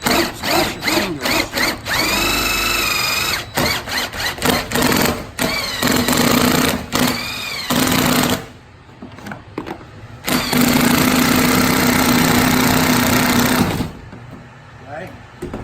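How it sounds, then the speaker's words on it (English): Drilling a bulkhead hole into a plastic tank: a power drill runs in loud uneven bursts with stops and restarts, a voice talking between and over the drill noise. "And now I'm going to drill my hole."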